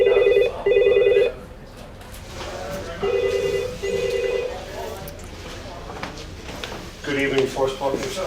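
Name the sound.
telephone ringing in an unattended hotel reception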